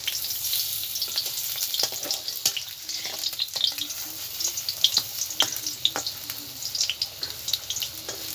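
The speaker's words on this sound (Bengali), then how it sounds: "কড়াতে তেল গরম দিয়ে দিলাম এবার আমি ভালো করে মাছগুলো বেজে নিই" Steady hot-oil frying crackles throughout as fish fry in a wok, with scattered louder pops and a few soft scraping clicks, close and continuous with no talking.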